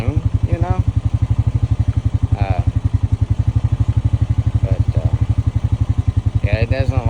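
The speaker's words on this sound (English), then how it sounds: "it doesn't like to shift at higher RPMs" A 2025 Honda Rancher 420 ATV engine thumps in a loud, steady, close chugging rhythm near idle, with a few short rises in revs as gears change and a voice speaking over it.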